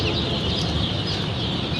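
A crowd of broiler chicken chicks chirps constantly and loudly together, a dense, unbroken chorus of high peeps with no pauses and no talking.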